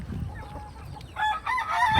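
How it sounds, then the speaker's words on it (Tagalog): A chicken clucks and squawks close by in short bursts, with a faint low rumble of background noise underneath. "Chicken."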